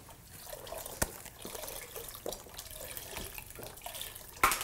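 Liquid is poured into a cooking pot in a kitchen, producing soft continuous splashing and trickling with a few sharper drips and clinks, steady and fairly close throughout, with no voices.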